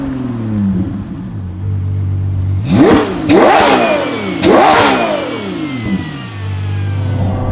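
NOVITEC-tuned Ferrari 12Cilindri with an Inconel exhaust, driven on narrow side roads: a steady engine drone climbs into three sharp, loud revving surges in quick succession before settling back to a lower cruising hum.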